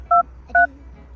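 Two short, sharp keypad tones sound as a phone number is dialed, close and clear against a quiet hum.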